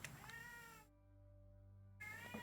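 A cat in the Vampire the Masquerade – Shadows of New York game lets out two short, tonal meows separated by a quiet pause, close but soft.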